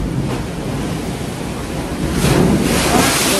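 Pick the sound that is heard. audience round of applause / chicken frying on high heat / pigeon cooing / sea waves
sea waves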